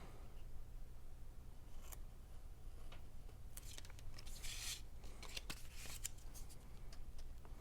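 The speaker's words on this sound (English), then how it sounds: "I'm going to take the X-Acto knife and I'm going to make a little slit in the middle" X-Acto knife cutting a small slit in the middle of paper on a cutting board, heard as faint scratchy scraping strokes and soft rustles spread through a quiet stretch with low background hum.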